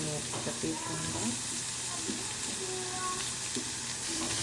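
Ridge gourd and dried chillies fry in a pan with a continuous close sizzle, steam hiss and intermittent scraping of a stirring spoon throughout.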